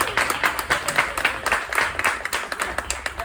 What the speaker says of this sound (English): give a round of applause to our chefs who prepared this fabulous food